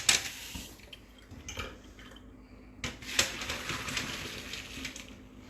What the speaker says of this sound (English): It looks like our pasta is done. So we're just gonna drain this.